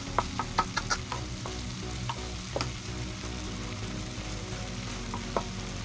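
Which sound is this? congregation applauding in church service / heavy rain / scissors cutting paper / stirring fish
stirring fish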